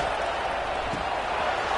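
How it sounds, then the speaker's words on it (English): Broadband roar of a large stadium crowd at a top-25 football game, a steady dense wash of cheering noise with no distinct breaks, filling the whole short stretch. "Listen to the crowd energy here in the early going."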